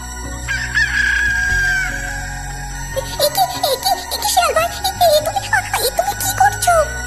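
In a cartoon, a rooster crows once in a long drawn-out call, followed by a run of close, repeated clucks and squawks from chickens.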